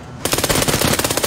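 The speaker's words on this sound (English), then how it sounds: "I turned around and started firing at him." Rapid automatic machine gun fire in a battleground video game, a loud close burst of evenly spaced shots that starts abruptly and runs continuously.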